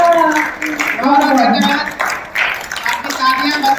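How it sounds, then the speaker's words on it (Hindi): Audience applause from a Hindi kavi sammelan poetry recital crowd after a poem, steady broadband clapping running through the whole stretch with a voice briefly audible over it. "आपकी तालियां बता रही हैं कि आपको और सुनना था।"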